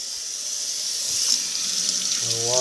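Water running steadily from a tap while something is rinsed off, a close, continuous hiss with slight splashing changes, followed by a brief voice at the end.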